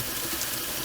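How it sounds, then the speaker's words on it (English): Hot tap water runs steadily from a kitchen faucet in a short, continuous gush of close, even hiss. "get some hot tap water."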